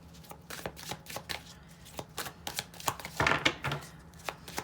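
Tarot cards being shuffled in quick riffling bursts, a series of crisp flicking rustles close by, repeated several times with short pauses.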